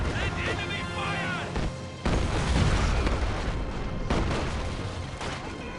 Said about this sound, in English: Detonate the explosives.